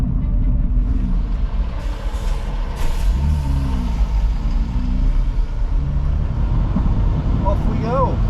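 A BMW M2 drives up the Alpine Stelvio Pass, engine droning and rising through gears at moderate volume, mixed with road and wind rumble.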